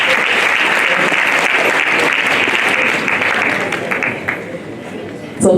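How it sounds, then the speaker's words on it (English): Audience applause at a university business school engagement event, a dense burst of clapping that thins toward the end before a sharp sound at the close. "Please clap for him."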